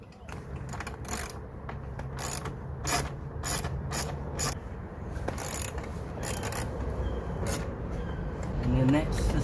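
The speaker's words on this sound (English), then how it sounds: "So we're now going to take out our second bolt" A ratchet clicks in short bursts while unscrewing a dash pad bolt inside a Suzuki Swift ZC31S, close up, with a voice talking over the ratcheting.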